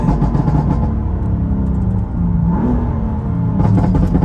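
A BMW M3 in Sport Plus mode is pulled hard in second gear, with a deep, loud exhaust rumble and rev swells. Crackling pops and bursts come from the exhaust near the end.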